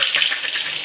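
Small sambar shallots dropped into hot oil with fenugreek, a bright close sizzle and crackle lasting under a second, loud and steady without talk.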